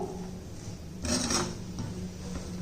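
Wheat rava pulao with a few drops of lemon juice being mixed in a pan, heard as a brief raspy scrape of the spoon through the grains, fairly close, over faint kitchen background.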